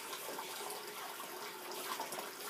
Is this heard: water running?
yes